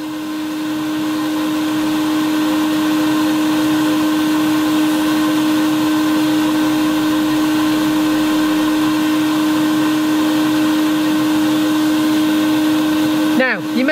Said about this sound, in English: I can feel the air jets now coming out of here